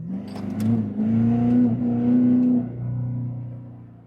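A tuned and deleted 2024 Ford Powerstroke diesel truck moves a heavy load of about 10,000 pounds, accelerating at partial throttle while locked in third gear. Close, loud engine drone climbs steadily in pitch, then eases off.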